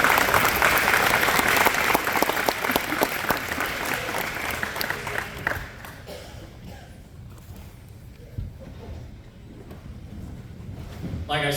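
An audience at a school football and cheer awards gathering claps for the all-district team, a dense, loud burst of applause that thins out and fades after about five seconds, leaving quiet room noise with scattered late claps.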